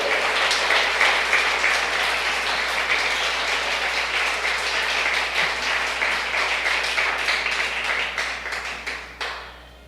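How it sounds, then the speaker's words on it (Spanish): A church congregation applauds loudly and steadily for several seconds, the clapping dense and sustained before tapering off at the end. "Démosle un fuerte aplauso al Rey y Señor de señores."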